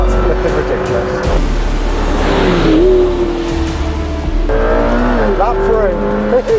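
A McLaren P1 in race mode accelerating hard on a bumpy public road, its engine note climbing and shifting loudly and continuously from the cabin while a person talks excitedly over it.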